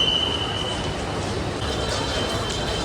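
A train runs at SMBT railway station, a steady broad rumble with a thin high squeal of wheels throughout.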